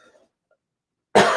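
One sharp, loud cough bursts out near the end after near silence, with only faint murmurs before it.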